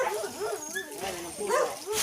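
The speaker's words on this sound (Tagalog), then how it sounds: "May maliliit din sila guys sa mga tuta dito." Small puppies yip and whimper in short, high bursts at close range, mixed with a person talking nearby.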